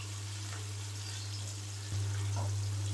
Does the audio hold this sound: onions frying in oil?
yes